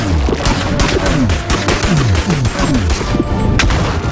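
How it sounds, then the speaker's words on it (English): Video game gunfire at point blank range, a rapid dense barrage of loud close shots and impacts filling the whole stretch without a break. "Look at how many times I shot this thing at point blank range."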